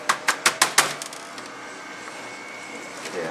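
Five quick metallic clicks in a fast, even run as tiny screws drop out of a laptop onto a hard surface, followed by quieter room noise.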